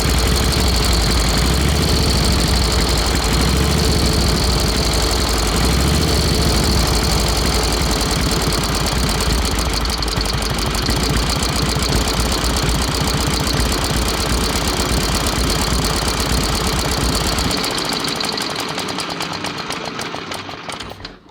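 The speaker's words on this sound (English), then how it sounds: "cranking the 1916 Traub, one-of-a-kind mystery motorcycle" A 1916 Traub motorcycle engine runs loud and close with a steady rough thrum and rapid firing pulses for about seventeen seconds, then cuts out and winds down to quiet.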